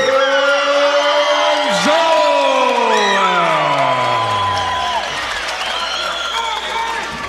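An arena crowd at a Hawaii MMA event roars, cheers and applauds for fighter Kaipo, loud and sustained throughout, with whoops rising over the din and an announcer's voice trailing off early.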